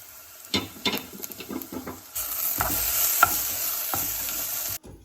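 A pot of Indian home cooking being stirred, a spoon scraping and clinking in short strokes, then a louder continuous sizzle that cuts off abruptly near the end.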